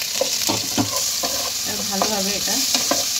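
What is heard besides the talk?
ginger, garlic and green chili frying in a pan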